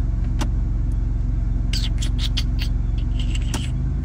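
A car engine idles with a deep, steady, loud rumble as it is readied for a launch control start, with brief higher bursts over the drone.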